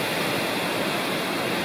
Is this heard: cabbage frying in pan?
no